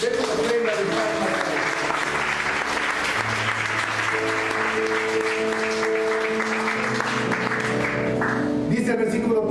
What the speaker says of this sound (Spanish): Denle una ofrenda de palmas.